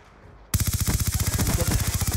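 Rapid automatic gunfire in a video game, a loud, sustained burst of tightly spaced shots that starts abruptly after a brief quiet moment.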